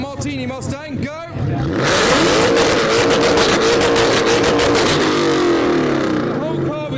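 A Ford Mustang V8 at a crowd rev battle roars up and holds a loud sustained howl for several seconds before easing off, with voices and crowd noise at the start and under the engine.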